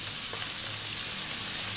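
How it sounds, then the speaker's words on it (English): Sliced red onion and carrots fry with bacon in a pan over high heat, giving a steady, close hiss of sizzling that runs unbroken through the whole short stretch with no voices. "We're now going to drop in that onion, sliced red onion, and I'm going to pop in those carrots"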